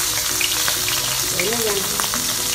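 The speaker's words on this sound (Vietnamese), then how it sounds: "Chiên cho hai mặt nó vàng đi" Dried croaker fish frying in a pan, a steady dense crackling sizzle of hot oil that holds at an even level throughout, with faint background tones beneath it.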